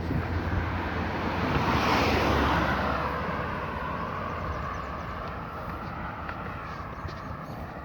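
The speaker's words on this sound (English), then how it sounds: "I don't know if you guys can hear the waves crashing" Waves crash near George River in St. Joseph, Barbados: a steady, broad surf roar mixed with wind buffeting. It swells around the second second, then eases into a continuous wash with no voices.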